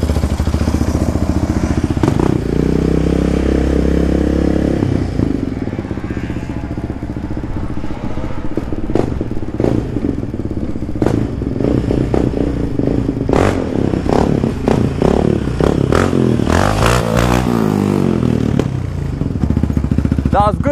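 Yamaha Raptor 70 quad bike engine idling and revving in short throttle blips during wheelie attempts, a steady low motor with clattering thumps, with people talking over it throughout.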